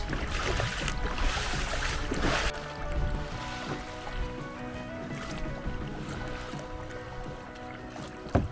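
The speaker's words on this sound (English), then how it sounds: "All this splashing around." Continuous splashing from kayaking on Lake Malawi, a dense wash of churning water and small waves that stays fairly steady and close throughout, with no clear talk.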